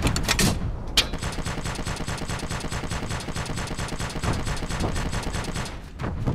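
Rapid, dense gunfire from a sniper engagement in Operation Flashpoint: Dragon Rising, a battlefield firefight. The shots crackle almost continuously at steady loudness for several seconds, with a few sharper reports standing out and no talk.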